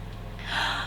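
A female dog lets out a single short yawn, a close breathy gasp rising into a soft squeaky exhale over a low steady hum inside an RV.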